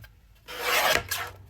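A paper trimmer slices through a sheet of paper, giving one close, loud rasping cut of about half a second followed by a shorter scraping return stroke, with no talking.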